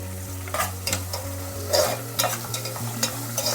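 Sliced onions with salt sautéing in a pan, a close, steady sizzle with quick spatula scrapes and stirs every half second or so, alone with no talking and a faint constant hum underneath.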